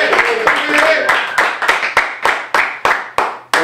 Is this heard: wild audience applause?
yes